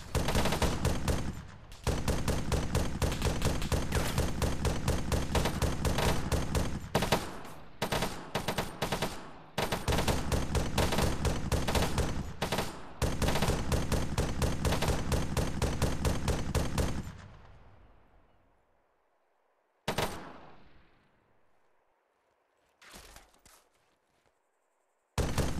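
Sustained automatic machine gun fire in the Arma 3 military game, loud and close, in long continuous bursts with brief gaps, ending around seventeen seconds and followed by a fading tail and a few isolated later shots.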